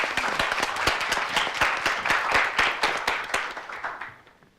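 A high school debate contest audience claps to welcome a student speaker, a close, lively burst of individual claps that holds for a few seconds and then thins and fades away.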